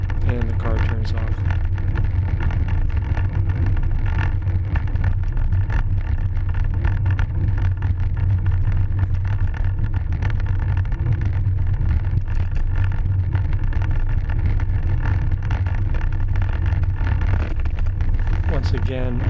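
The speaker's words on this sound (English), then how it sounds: "Once again, a car not seen on the display until it accelerates to pass us." A car accelerating past a cyclist on a road, a loud steady engine drone with heavy wind buffeting the bike-mounted microphone throughout.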